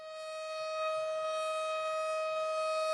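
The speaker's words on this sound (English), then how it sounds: "What's with the sirens?" A steady wailing siren holds one sustained tone, moderately loud and slightly distant, with no voices over it.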